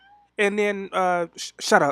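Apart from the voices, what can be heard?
cat meowing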